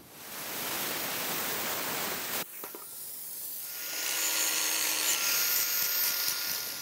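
A steel part for the inner A-frame of a front hitch weight carrier on a Kubota B2261 compact tractor is cut with a power tool, a steady loud hissing grind that shifts pitch midway and carries on alone.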